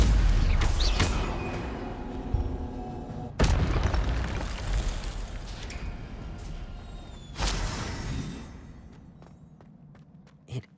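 A Stupefy spell blasts in Hogwarts Legacy during a duel, heavy booming bursts at intervals with rumbling decay, loud and close, ending in a sharp final pop.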